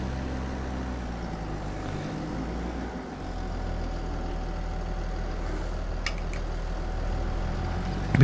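A tractor engine in Farming Simulator 22 runs steadily at a low, even drone, a continuous mechanical hum that holds alone with no talk over it.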